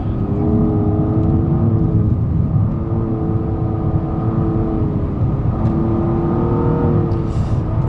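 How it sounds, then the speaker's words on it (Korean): A Nissan Maxima 3.5 V6 car engine heard from inside, revving up in rising surges with pitch climbing, dropping and climbing again, loud and continuous. "엔진 그 회전에서 일어나는 그 사운드 자체는 굉장히 좋습니다."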